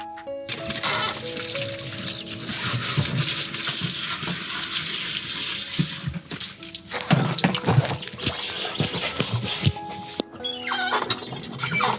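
Water being drawn from a hand pump, a loud continuous gushing splash with squeaking and clanking from the pump that breaks briefly in the middle, then resumes, close by.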